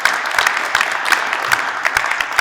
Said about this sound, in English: round of applause for Gary